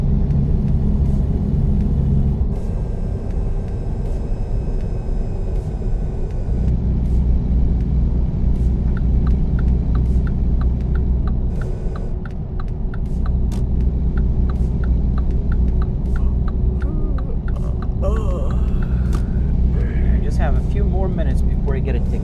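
Truck engine rumbling steadily in a truck simulator game, a low continuous drone with occasional brake hiss and passing traffic, people talking over it throughout.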